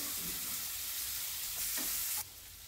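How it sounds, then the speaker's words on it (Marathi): Chopped onions drop into hot spiced oil tempered with turmeric, giving a loud continuous sizzle with brief stirring scrapes, then dropping abruptly quieter near the end. "मी कांदे त्यातले 2 बारके छोटे टाकून ते टाकते।"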